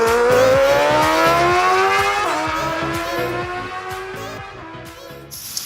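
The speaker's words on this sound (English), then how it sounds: "This is why I got a little tiny car, guys. I can get around anything and park anywhere." A tiny car drives along, its engine note rising and falling through gear changes with steady road and tire noise, fairly close and with no voices.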